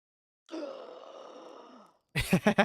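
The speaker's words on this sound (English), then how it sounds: "I'm gasping for breath because I just died of suffocation" A long, breathy gasp and groan from an Outer Wilds character recovering after suffocating, rising and trailing off over about a second and a half before a voice begins speaking close by.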